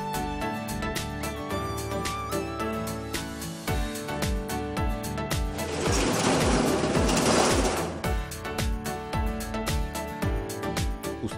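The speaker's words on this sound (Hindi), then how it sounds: "उस्ताद अब्दुल वहीद ने अपने वाहिद रोजगार सिलाई मशीन ठीक करने वाली अपनी दुकान पर काम किया" A sewing machine runs in a small sewing-machine repair shop in Pakistan, a steady rapid mechanical clatter with regular ticking beats that continues loud and close throughout, growing busier midway, with no talking.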